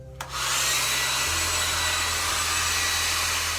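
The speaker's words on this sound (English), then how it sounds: "so I'm just going to blow dry it a tiny bit more" A hair dryer blows steadily on damp hair, starting after a brief pause and holding a loud, continuous rushing whir with a low motor hum, and its pitch shifts slightly partway through.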